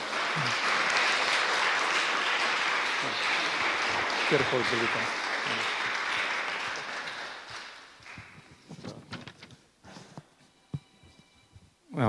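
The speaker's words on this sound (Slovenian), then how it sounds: "En aplavz za njih." Audience applause for three panel guests at a round-table talk on medical hypnosis, a full steady round for about eight seconds that tapers into scattered claps while a voice speaks briefly.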